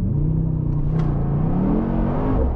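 A 2023 Mercedes-AMG GT 63 S four-door coupe with an 843 hp V8 accelerates hard, its engine note a loud, steady rising roar heard continuously from inside the car, with no talking.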